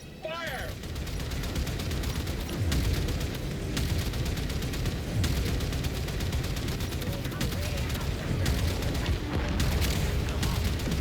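Torpedoes fired from all bays in the video game Warframe, a rolling barrage of booming blasts and crackling impacts that keeps up densely throughout, with a voice talking over the din.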